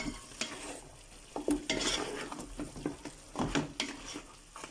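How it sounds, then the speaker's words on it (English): Pork chops and spices frying in a pot give a steady sizzle, broken by several sharp stirring scrapes and clatters that come close and loud at irregular intervals. "we're going to let this fry for about 3 minutes so our spices cook"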